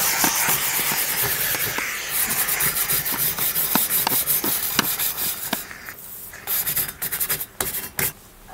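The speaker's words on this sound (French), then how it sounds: "pulser de la vapeur sur votre barbecue portable" A steam mop pulses rhythmic bursts of hissing steam onto a portable barbecue with scrubbing and rubbing strokes, close and fairly loud, pulsing repeatedly before growing choppier near the end.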